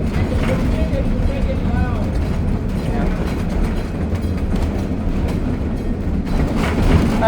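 Rumbling, rattling ride aboard a steam locomotive train, with continuous low mechanical roar, clanking of cars and brief squealing tones rising above the steady din.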